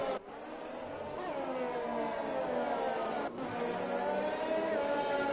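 F3 race car engines screaming around Silverstone in a sim racing game, a steady high-pitched whine of several cars with rising and falling pitch as they shift gears, loud and continuous, with a brief dip partway through.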